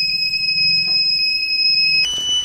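A faulty Microtek inverter emits a loud, continuous high-pitched electronic beep that holds steady, then shifts slightly in pitch near the end, over a low hum.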